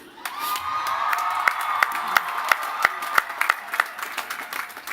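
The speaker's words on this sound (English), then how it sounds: "my cheering crowd" Graduation crowd at a college commencement ceremony cheering loudly and steadily, with scattered whoops, shouts and sharp claps rising through the roar.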